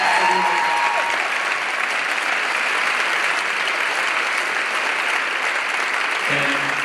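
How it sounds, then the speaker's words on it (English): A crowd at a street-naming announcement claps in sustained, even applause lasting several seconds, fairly loud and close, with a brief word spoken at the start. "Let's hear it"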